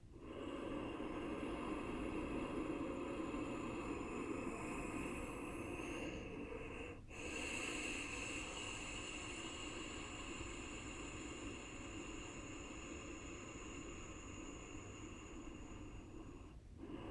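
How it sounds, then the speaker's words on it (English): Long, slow ujjayi breaths with a steady oceanic hiss from a constricted throat, rising and falling gently with brief pauses between. "Ujjayi, victorious or ocean's breath."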